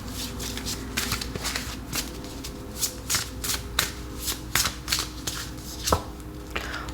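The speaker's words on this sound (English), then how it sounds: "let's actually pull an oracle card" A deck of oracle cards being shuffled by hand at close range: a run of crisp, rapid riffles and slaps, repeated in irregular bursts over several seconds with a faint background hum.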